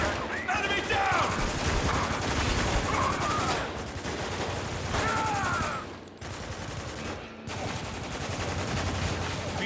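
Sustained automatic gunfire from a Spec Ops: The Line battle, loud and continuous, with rapid overlapping bursts and brief lulls between volleys.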